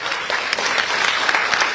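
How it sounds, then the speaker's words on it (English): An audience at a school event applauds, a brief, dense patter of many hands clapping at once, steady and fairly loud throughout. "Let's give them a nice round of applause."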